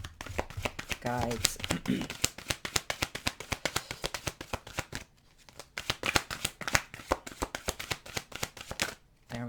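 Tarot and Lenormand cards are shuffled in rapid, crisp riffling bursts close to the microphone, with a brief pause before one card is drawn, while someone talks softly throughout.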